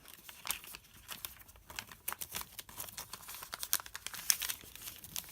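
Origami paper crinkles and crackles in close, irregular bursts as it is unfolded and refolded along its creases, with a few sharper snaps toward the end and no talk.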